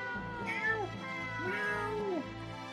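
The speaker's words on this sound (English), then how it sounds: "Kitty!" A cat meows in the Star Ocean video game, two drawn-out, clear meows close up with a bending pitch, over a low game background hum.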